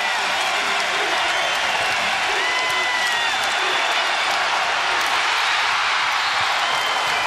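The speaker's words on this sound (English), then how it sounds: "The crowd comes to their feet with a minute and a half left in the first half" Basketball crowd at the 2011 Women's NIT Championship rising to its feet, a continuous broad roar of cheering and clapping that stays loud and steady, with faint talk underneath.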